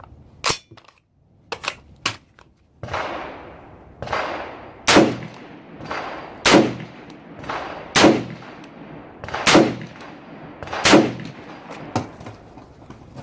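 A Palmetto State Armory PA-65 rifle in 6.5 Creedmoor fires a string of loud, sharp shots outdoors, several quick early reports followed by evenly spaced single shots, each ringing out with a short echoing tail.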